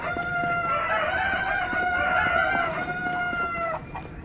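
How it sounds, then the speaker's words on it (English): Chickens in the video game Tears of the Kingdom cluck and crow near a village, a loud drawn-out rooster-like call rising over soft background game ambience for a few seconds, then fading. "I wonder if the Kakariko villagers even know where their chickens are going."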